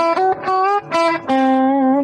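A clean 2013 Paul Reed Smith electric guitar, through a Helix and a Deluxe Reverb amp, plays a few sustained, ringing notes with a smooth reverb tail, loud and up front with no voices.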